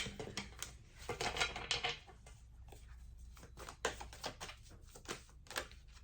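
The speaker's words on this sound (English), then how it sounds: "Let me do an actual shuffle" Tarot cards are shuffled by hand in quick, quiet bursts of riffling and flicking, soft and near with brief pauses between the runs.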